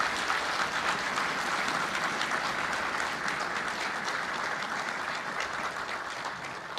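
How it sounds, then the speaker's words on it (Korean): Loud, sustained applause from a large crowd at a military commissioning ceremony for 558 new Army, Navy, Air Force and Marine officers, a dense steady wash of clapping that continues throughout and eases only slightly toward the end. "다시 한번 힘찬 격려의 박수"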